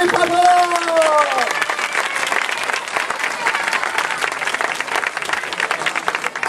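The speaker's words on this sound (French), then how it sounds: "Je vous demande de les applaudir, ce sont les papas." Audience at a children's show applauding the dads, dense crowd clapping that holds steady throughout, with a voice speaking over the first second.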